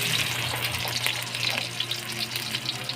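Garlic and onion fry in hot oil with a dense, steady crackling sizzle close by, and no voices.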